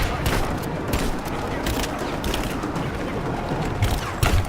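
Cannon fire in Rise of the Tomb Raider, a steady rolling barrage of loud gunfire-like blasts with a heavier burst near the end, dense and continuous, with faint voice traces mixed in.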